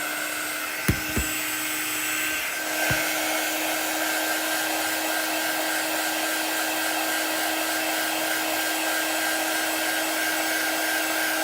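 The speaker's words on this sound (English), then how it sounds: "We'll go ahead and start to blow dry this, and then we'll let it finish drying on its own." A hair dryer blows on a chalk craft project, a steady, even whir that runs unbroken after a couple of quick clicks at the start.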